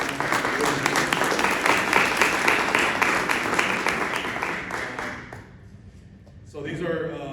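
Audience applause at a community meeting, a dense sustained patter of many hands clapping that fades out after about five seconds, then a voice starts speaking.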